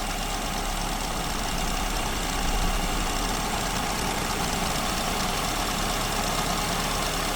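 Car engine idling steadily with an over-rich idle mixture, a loud, constant close-up drone with a slight uneven knock and no pauses.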